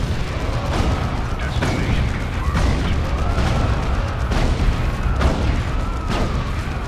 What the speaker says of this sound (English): I'm firing smoke bombs on your location.